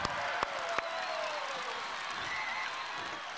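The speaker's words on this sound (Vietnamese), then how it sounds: "Thôi vỗ tay đi bà con ơi." Studio audience applause on a Vietnamese family TV game show, a steady wash of clapping with scattered cheers that holds evenly throughout, with a couple of sharp louder claps near the start.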